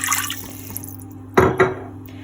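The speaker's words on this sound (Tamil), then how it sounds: "ஸோ ஒரு குக்கரில் ஃபஸ்ட்டு வந்து கொஞ்சம் தண்ணி ஊற்றிக்கலாம்." Water splashes into a pressure cooker at a home stove while tomato soup is being made, heard as two short close bursts of pouring over a steady low hum.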